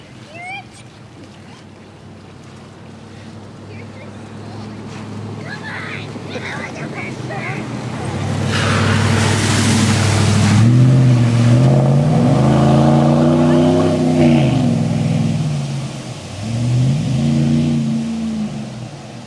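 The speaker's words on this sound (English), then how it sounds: "here comes that truck again" A truck drives through flood water in Stettler, its engine growing louder as it approaches and revs, with a burst of heavy splashing and spray in the middle; people talk nearby.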